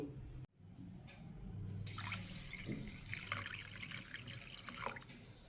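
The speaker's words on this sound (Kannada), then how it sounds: "ಇದಕ್ಕೆ ನೀರು ಹಾಕ್ಕೊಳ್ತೀನಿ" Water pours from a tap onto washed lentils in a kitchen vessel, a steady splashing flow that starts abruptly after a brief pause and runs continuously to the end, close and moderately loud with no talk.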